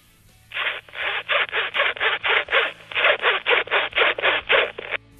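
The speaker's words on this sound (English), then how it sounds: "I play a zinging tune just using the zip on my hoodie" A hoodie zip pulled up and down in a quick rhythmic run of about eighteen rasping strokes, played as a tune, close and clear with short gaps between pulls, no talk.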